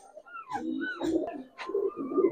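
Silver Giribaz pigeons cooing nearby, a few soft throaty rolling coos in quick succession with small pauses, fairly clear and alone.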